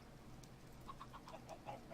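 Faint chicken clucks in the video game Minecraft, a handful of short calls spread over a low steady background hum.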